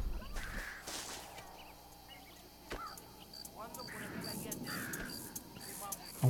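Crows caw a few times in the Red Dead Redemption video game, fairly faint against outdoor game ambience, with scattered brief sounds and occasional voices in the scene.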